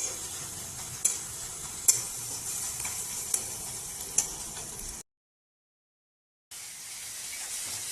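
Onions browning in oil for duck meat curry, a steady close sizzle punctuated by regular spatula taps against the pan, briefly cut to silence before the frying resumes.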